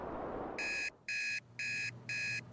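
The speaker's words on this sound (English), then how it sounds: "the shrill cry of an alarm clock woke Lauren Jones from her slumber" An alarm clock rings in four evenly spaced, shrill electronic bursts, loud and close, following a brief soft rustle.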